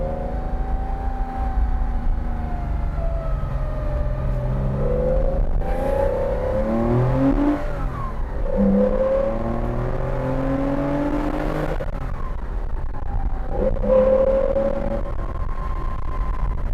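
A Porsche 914-6 engine drones close up while driving, rising and falling in pitch through repeated gear changes and revs over about seventeen seconds, with no talking.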